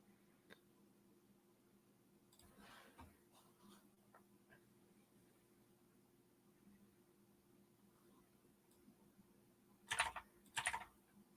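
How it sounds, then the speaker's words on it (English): Quiet intermittent keystrokes on a computer keyboard while typing a message into Discord, sparse taps early on, then two brisk bursts of rapid typing near the end. "I'm gonna start typing it in the Discord."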